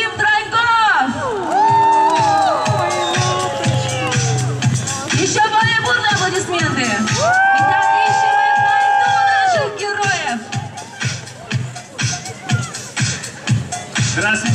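An outdoor crowd at a skating rink opening in Sokolniki cheers and whoops as figure skaters Tatiana Volosozhar and Maxim Trankov are introduced, with tonal sounds and a loud bass-heavy backdrop running underneath.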